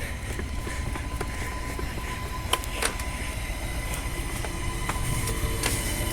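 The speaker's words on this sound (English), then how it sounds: "Oh, the train's already here." A train stands at Bowden Station in Adelaide with a steady low rumble and hum, a faint tonal whine and a few sharp metallic clicks and squeaks, fairly close and at moderate volume, with no speech.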